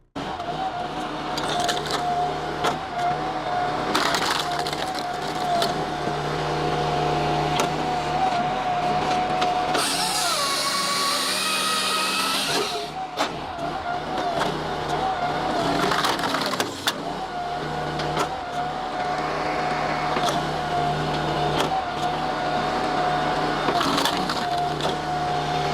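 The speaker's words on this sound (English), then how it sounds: "powerful wood splitters that tear through massive logs with absolute precision" A powerful hydraulic log splitter drives through massive logs, loud continuous crunching, splintering and cracking of wood over a steady machine drone, with one sharper burst of splitting midway.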